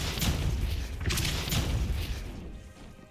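Depulso force spell cast in Hogwarts Legacy, heard as loud thumping bursts with a broad whooshing blast near 0.2 and 1.1 seconds and another around 1.5 seconds, fading toward the end.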